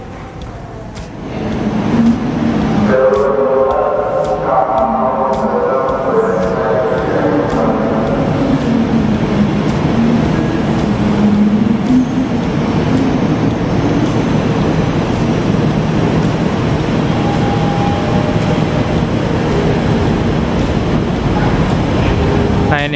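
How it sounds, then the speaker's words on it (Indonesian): Airport rail link train running from Manggarai to Soekarno-Hatta in Jakarta, a loud steady rumble of the moving carriage with low motor whine and rattling, continuous throughout, with some faint voices in the background. "Ini kereta KA Bandara dari Manggarai sampai Soekarno-Hatta."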